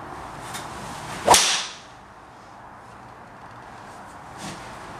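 A Cobra ZL Encore driver strikes a golf ball with a single sharp, loud crack, followed by a brief whoosh as the ball flies off, then quiet outdoor ambience.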